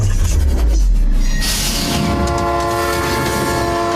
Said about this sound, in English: Train will be barreling down the tracks